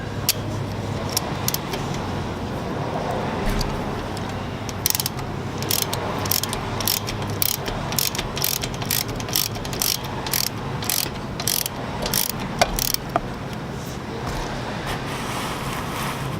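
A ratchet works loose the transmission drain plug on a Harley Davidson Road King, with quick metallic clicks starting partway in and repeating in short uneven strokes over a steady low garage hum.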